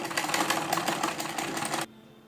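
A sewing machine stitches the hem of a salwar in a fast, steady mechanical whir that runs continuously at close range and then stops abruptly, leaving quiet.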